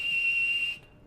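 A person whistles a steady single high pitch into a ham radio microphone, holding the clear tone for under a second before it cuts off into near silence.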